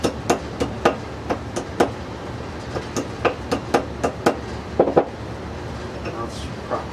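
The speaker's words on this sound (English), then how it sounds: "I can use the hammer" A hammer taps a part into place during T96 assembly, giving a run of about fifteen sharp, close metallic knocks at a brisk, slightly uneven pace, then a short pause before one final light tap.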